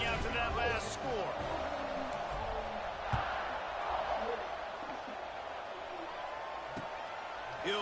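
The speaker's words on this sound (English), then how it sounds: "this crowd is buzzing after that last score" A steady crowd roar fills a stadium in a college football video game, with a loud buzz and scattered whoops heard under continuous commentary.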